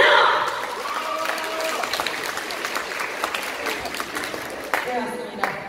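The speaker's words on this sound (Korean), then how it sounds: "박수 한번 주세요!" Applause from guests at a Korean wedding, a steady wash of clapping sustained throughout, mid-distance, with a few sharper claps standing out.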